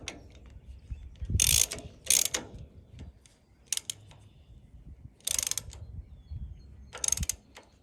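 Ratchet wrench tightening a bolt on the cutter bar of a John Deere 630 MoCo mower, with several short bursts of clicking separated by pauses and quiet handling noise.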